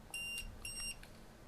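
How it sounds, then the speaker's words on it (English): A battery voltage tester alarm used with a sleep apnea machine while backpacking gives two short electronic beeps in a row, each a bright multi-tone chirp, close and clear over quiet background hiss. "It's an alarm, essentially. It will tell you the voltage level on each battery"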